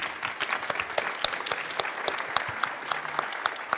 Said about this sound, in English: I'm going to ask you to a round of applause to these 3 brilliant guests.